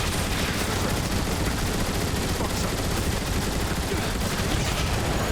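Guns firing in Transformers: War for Cybertron, a dense, nonstop loud barrage of rapid shots that fills the whole stretch.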